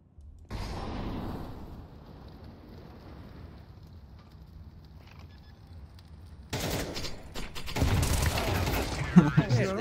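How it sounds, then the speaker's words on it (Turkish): Rapid bursts of gunfire in Counter-Strike 2 erupt loud and dense in the second half, after a quieter stretch of game ambience with players talking over it. "Koşa koşa vuruyor herkes."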